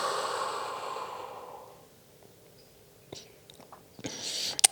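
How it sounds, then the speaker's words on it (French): During a Pilates exercise, a long, audible exhale comes close to the mic, then a quiet pause with a few small clicks and shuffles, and then another breath begins. "Encore, j'inspire"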